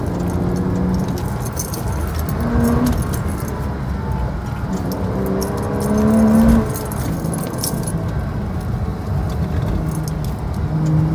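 A Porsche Cayman S drives a quiet country road toward a village, giving a continuous, fairly loud engine and road rumble from inside the car with slight swells in intensity.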